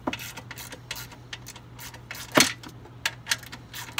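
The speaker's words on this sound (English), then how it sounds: "using a 13 millimeter socket or wrench, we're going to loosen the upper strut bolts." A 13 mm socket wrench ratchets while loosening the upper strut bolts during a Ford Bronco Sport level lift install, giving a series of quick, faint clicks with one sharper metallic knock partway through.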